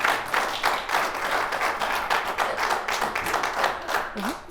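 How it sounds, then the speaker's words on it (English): An audience claps for several seconds, with distinct individual claps in a quick, slightly uneven rhythm rather than a dense roar, fairly close in a small room. "Thank you for that long clap"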